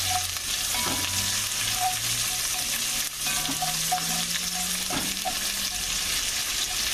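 Onions and vegetables frying steadily in a pan with a pinch of cumin for a German bread soup, a continuous close sizzle with occasional stirring scrapes and no talking.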